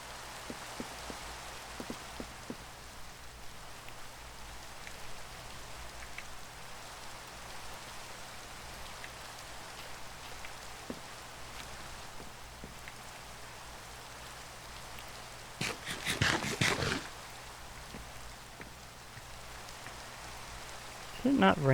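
Steady rain falls in Minecraft, a continuous even patter throughout with a short louder burst of noise near the end, heard alone without talk.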